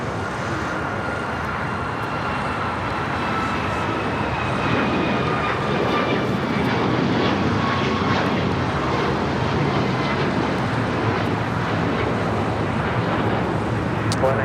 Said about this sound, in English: China Airlines cargo, flight 5382, 777 freighter coming in from Taipei